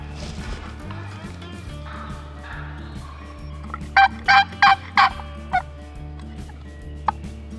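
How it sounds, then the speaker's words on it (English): A wild turkey gobbles in the spring woods of Potter County, Pennsylvania, several bursts in a quick series at mid-distance, clear over a steady low hum of background noise. "I had him gobbling out in front of me for a solid 20 minutes."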